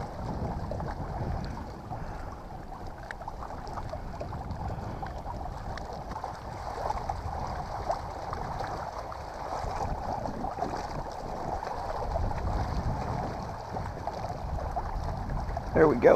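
Wind buffets the microphone while kayaking on a lake, a continuous gusty rumble with faint water sounds beneath it, the gusts growing rougher toward the end.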